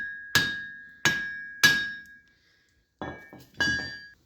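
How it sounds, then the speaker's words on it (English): Trailer hitch used as a hammer on metal parts while replacing a Jeep Cherokee axle shaft, five sharp ringing strikes, three evenly spaced then two more after a short pause, close and clear. "I don't have a hammer here, so I'm using a trailer hitch."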